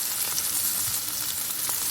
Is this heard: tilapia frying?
yes